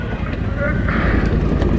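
A Polaris Sportsman 1000 XP ATV engine-braking down a very steep trail hill, a steady low engine drone buried under heavy wind rush, loud and close throughout.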